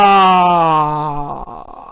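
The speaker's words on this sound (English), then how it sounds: "we yawn, we take in air with our mouth open, and then we exhale as if we're sighing" A person gives a voiced yawn as a relaxation exercise for the voice: a loud, sustained tone that glides slowly downward, then breaks into a breathy, fading sigh.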